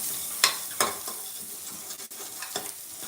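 Onions fry over a low flame for a chicken curry, giving a soft continuous sizzle broken by a few sharp clicks of a stirring spoon against the pan, close by, with no talking.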